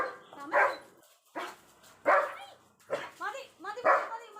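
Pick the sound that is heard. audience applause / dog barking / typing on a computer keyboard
dog barking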